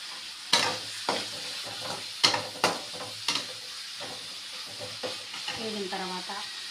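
Egg fried rice ingredients sizzle steadily in a hot pan, broken by several sharp scrapes and clanks of a spatula stirring them, all close and with no talking.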